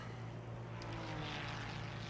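Racing car engine in a video game at the Imola circuit, a steady droning engine hum with a low throbbing tone held throughout, loud and constant with no talk.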